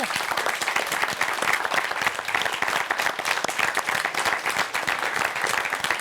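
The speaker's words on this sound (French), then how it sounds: "On peut les applaudir, ils sont avec nous." An audience applauding continuously and fairly loudly, dense steady clapping from a crowd at a community foundation event, sustained throughout with no break.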